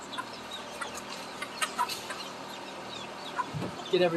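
Chickens clucking inside a barn with chicken houses, a steady murmur of soft clucks and scattered calls over constant background hum, with no clear talk.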